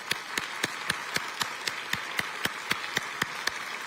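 At a city's State of the City address, a small group claps slowly and steadily for the recognized students, with evenly spaced, distinct claps over a constant room hiss.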